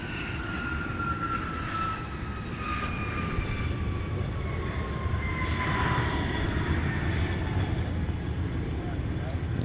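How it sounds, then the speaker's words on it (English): A Hawker 800XP business jet coming in to land at a snowy winter airport, its engine whine drawn out as a falling tone, steady and moderately distant over constant background rumble and wind. "We got a BizJet coming in."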